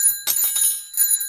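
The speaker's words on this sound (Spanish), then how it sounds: "Por ejemplo, yo tengo estos timbres." Small metal bells, rung as a percussion stand-in for horse sounds, jingle in three close bursts with bright sustained ringing that lingers between shakes.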